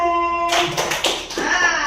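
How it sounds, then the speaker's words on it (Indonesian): A classroom of students claps once on a teacher's command, a loose cluster of near, sharp hand claps slightly out of sync, coming right after a brief spoken cue. "Sekarang lagi, tepuk 1."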